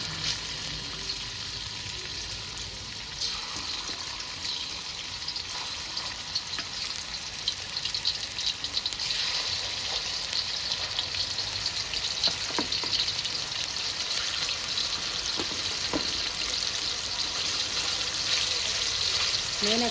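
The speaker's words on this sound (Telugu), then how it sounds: "ఇవన్నీ వేసుకొని ఫ్రై చేసుకుందాం." Marinated chicken fries in hot oil over a medium flame for street-style chicken egg fried rice, giving a steady, close, even sizzle that hisses on without a break, with occasional small crackles and stirring.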